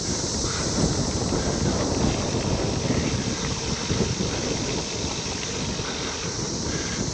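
Steady wind blowing across the microphone during a bike ride on a sunny trail, a constant broad rushing roar with low buffeting that runs unbroken throughout.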